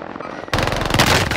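Rapid automatic gunfire in the video game Warzone Pacific, a loud, dense burst of close shots that starts abruptly after a half-second of quieter ambience and continues to the end.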